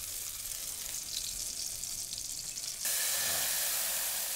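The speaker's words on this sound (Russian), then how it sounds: "Среди их блюд особым качеством обладают жареные трепанги с луком." Sea cucumbers frying with onion in a wok, a soft, steady sizzle that swells into a louder, brighter hiss partway through, with no talking.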